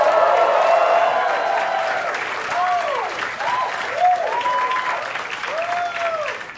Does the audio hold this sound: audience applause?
yes